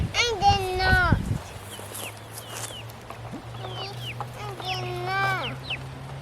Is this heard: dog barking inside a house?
no